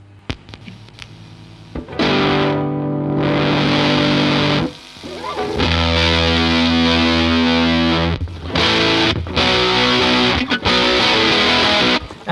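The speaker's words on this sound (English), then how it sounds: "And we have a fuzz face." Electric guitar through a Fuzz Face fuzz pedal built on a breadboard, loud thick distorted chords and sustained notes with brief gaps, a noisy hum between phrases, no talking.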